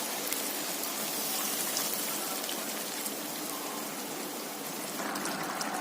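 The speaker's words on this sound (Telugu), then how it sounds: "1 కప్పు వాటర్ పోసేసుకుందాం ఫ్రెండ్స్." A cup of water pours into a pan of chicken curry with tomato pieces, making a steady, dense hissing splash that runs evenly for about six seconds.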